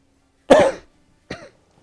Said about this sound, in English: I can't stop coughing through this whole thing